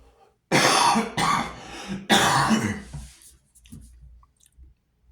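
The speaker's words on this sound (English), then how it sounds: "Oh, I'm gonna have to cough" Three harsh coughs in quick succession, each with a raspy throat-clearing edge, followed by quieter breaths and small mouth noises, close up.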